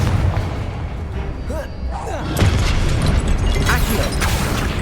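Confringo fire-blast spell explosions in the Hogwarts Legacy video game, heavy booms and bursts over a steady wash of combat noise, with a voice speaking throughout.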